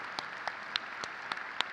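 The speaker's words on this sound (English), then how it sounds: "I want another round of applause for what we've heard so far." Applause at a high school graduation ceremony, heard as a thin spread of scattered claps with a few sharper hits standing out, fairly quiet and steady over a short stretch with no voices.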